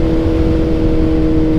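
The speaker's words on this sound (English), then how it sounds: "We'll see how high we can rev it out now." Kawasaki Z900RS with a 948cc inline-four, revved hard toward its limiter; a loud, steady high-pitched engine whine holds throughout, close to the bike, with no talking.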